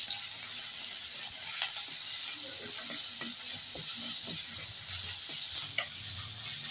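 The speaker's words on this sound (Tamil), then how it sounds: "எண்ணெயிலே நல்லா வதங்கிச்சுங்க வெங்காயம் தக்காளி எல்லாம்." Onion and tomato sautéing in oil for an eggplant and drumstick sambar, a steady close sizzle with scattered small pops and crackles running the whole time.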